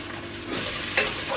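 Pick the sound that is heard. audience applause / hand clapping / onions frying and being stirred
onions frying and being stirred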